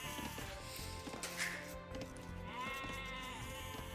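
Sheep bleat in a strategy video game, their calls rising over a dense, continuous bed of game music and effects, with a couple of nearby bleats standing out from the busy mix.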